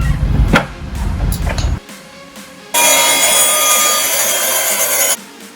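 A power saw cuts wooden leg braces for a farmhouse bench to length: a short burst of sawing and clatter, a pause, then a loud, steady whining cut lasting a few seconds, close up.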